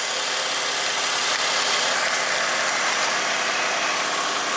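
A 2002 BMW X5 with a vacuum leak idles close by, giving a steady, loud engine drone with a strong hissing, airy wash over it and no break.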